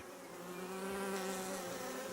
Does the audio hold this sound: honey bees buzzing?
yes